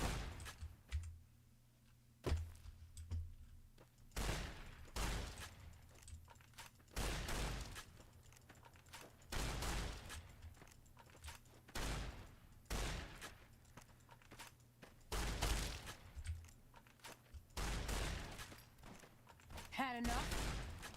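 Gunfire in Fallout: New Vegas, a series of loud, close shots and bursts repeating at irregular intervals, with low thumps under them and a voice talking between the shots.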